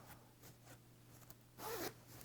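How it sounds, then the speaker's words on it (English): A zipper on a sewn lapped zipper closure is pulled up in one short, close, quiet rasp after some faint handling rustle. "now when you zip this up"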